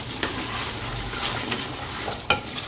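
Mutton curry being fried down in a pan with a slit green chili until the meat releases its oil, giving a steady low sizzle with a few sharper spoon-and-pan scrapes, fairly close and without talk.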